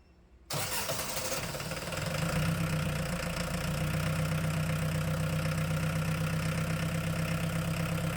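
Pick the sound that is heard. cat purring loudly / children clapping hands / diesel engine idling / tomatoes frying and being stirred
diesel engine idling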